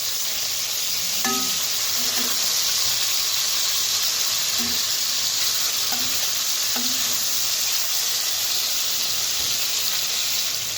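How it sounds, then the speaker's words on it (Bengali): Aar fish pieces fry in mustard oil with a loud, unbroken hissing sizzle, close up, and a few brief utensil clinks scattered through it. "তো হালকা হালকা মাছগুলো ভেজে নেব, তখন আবারও উল্টিয়ে দেব।"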